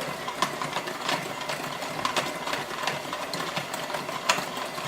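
An electric mixer creams butter with sugar for chocolate almond crackle cookies, a steady close whirring motor with rattling beater clicks throughout, no talk.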